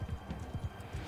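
Galloping horse hooves in the video game Mount & Blade II: Bannerlord, a quick steady clip-clop rhythm of low thuds, close and continuous with no talk.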